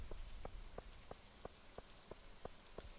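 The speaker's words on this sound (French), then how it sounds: "les gouttes de pluie font vraiment beaucoup de bruit sur le toit de son... de sa caravane" Rain falls on a caravan roof in the farming game Stardew Valley, as a steady hiss of patter with evenly spaced, sharp drop taps striking roughly three times a second, close and moderately loud, with no voices.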